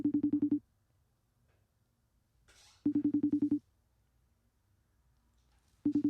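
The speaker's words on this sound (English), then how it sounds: "Oh, we're going to call him again." A phone call placed during a podcast rings out on the line: three bursts of pulsed ringing tone, each under a second, separated by quiet gaps with a brief soft rustle between, and no one answers.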